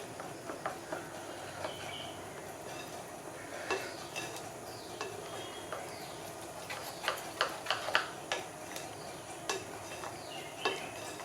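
Vanilla essence is stirred into banana cake batter made without egg or sugar. A spoon scrapes and clicks against the bowl in a continuous wet, irregular rhythm, close by, with no talk.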